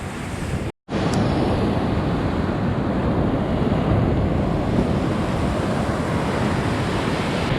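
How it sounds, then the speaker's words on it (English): Ocean surf washing onto the sand at North Myrtle Beach, a loud continuous roar of breaking waves mixed with wind buffeting the microphone, after a brief cut near the start. "Those waves coming and washing, and lots of shells."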